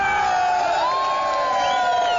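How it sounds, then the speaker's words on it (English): A stadium crowd at a 1980 Canadian football game with the Argonauts roars and cheers after a turnover, a dense sustained wash of voices heard from a distance. "This crowd is going nuts."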